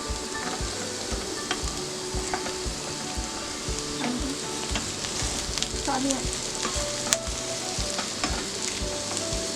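Chili and mushrooms sautéing in a hot pan for mushroom fried rice, a loud continuous close sizzle with rhythmic spatula stirs and scraping throughout, no voices.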